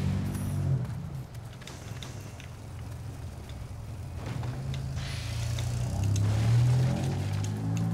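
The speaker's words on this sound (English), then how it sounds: "Pardon the noisy car engine outside." A noisy car engine running outside rumbles low and steady under video-game play, swelling louder toward the end as it seems to pass nearby.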